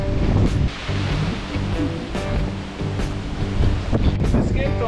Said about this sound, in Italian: Un po' di vento.